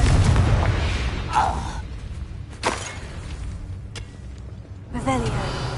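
Bursts from the Confringo explosion spell in Hogwarts Legacy: several sharp booming blasts and pops spaced through the stretch over a low game background, with a voice talking at moments.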